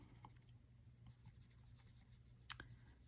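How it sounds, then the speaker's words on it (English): A colored pencil is circled lightly on paper while coloring a cloud, giving faint, soft scratchy strokes with a single sharp click partway through, quiet and close with no talking. "I'm going to circle my pencil"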